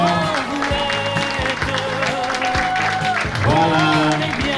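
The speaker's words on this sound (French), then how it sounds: "On applaudit très fort." Guests at a civil wedding applaud steadily beneath loud, rhythmic music with a pulsing low beat, the clapping blending into a continuous bright wash throughout.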